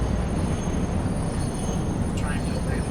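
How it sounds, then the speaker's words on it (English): A train in the video game Satisfactory rumbles steadily as it slows toward a station, giving a continuous low, noisy roll with a faint high squeal near the end. "Here is the train. It is obviously slowing down because"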